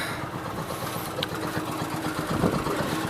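A small engine idles with a steady, close, low rumbling throb that holds at an even level from start to finish, with no voices over it.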